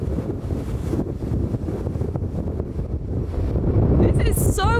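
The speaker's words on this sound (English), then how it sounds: "it's pretty windy" Strong wind roars across the open deck of a Norwegian Cruise Line ship on a sea day between Australia and New Zealand, a continuous buffeting rush that grows louder toward the end.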